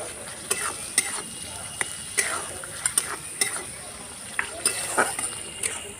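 Spices being stirred and sautéed in a pan for a papaya and potato curry with chickpeas, giving soft, steady frying hiss punctuated by sharp clinks and scrapes of a spoon at irregular intervals.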